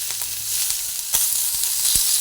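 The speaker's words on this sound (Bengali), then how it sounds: "আদাটা একটু তেলের মধ্যে একটু ভেজে নিচ্ছি" Ginger frying in a little oil in a pan, a close steady sizzle with a few soft scraping taps of a spoon stirring through it, no voices.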